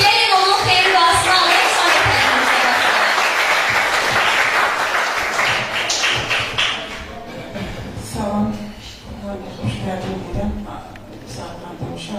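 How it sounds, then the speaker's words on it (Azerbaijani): Sustained audience applause at a concert in Baku, loud and dense at first, then thinning into scattered claps and faint crowd noise toward the end. "gəlin ilk növbədə alqışlayaq"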